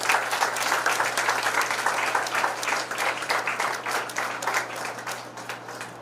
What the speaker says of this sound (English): Can we hear a big round of applause?